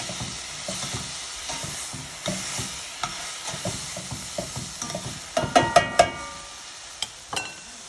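Vegetables and pepper sizzle steadily in a pot for oxtails as they cook down, with stirring scrapes and a few sharp utensil clinks against the pan near the end.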